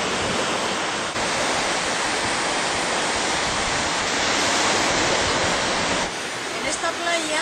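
Ocean waves at Concha de Artedo beach near Cudillero, Asturias, a broad steady wash of surf that roars continuously and fairly loudly, with a slight swell midway and a softer tail.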